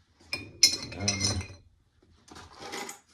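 Metal parts from a Swedish M96 Carl Gustaf 6.5mm Mauser rifle clink and knock together as they are swished around in a container of thinners, with a sharp rattle of contacts followed by a softer second burst of jostling.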